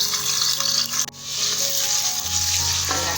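Steady loud sizzling of ground ginger and garlic paste frying in hot oil, with a brief clatter partway through and a low hum underneath.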